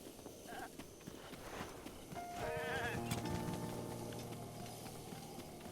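Goats bleat in Zelda: Breath of the Wild, several wavering calls rising near the middle over a low bed of game ambience and soft footsteps.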